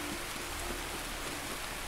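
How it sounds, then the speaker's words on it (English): Rain falls steadily in Escape From Tarkov, a soft constant hiss of drops with no break in it. It is faint and nobody talks. "You need to start raining harder."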